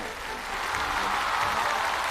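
An audience at a Deyunshe crosstalk show applauds, a dense, steady wash of clapping from a large crowd that swells slightly and holds without any talking.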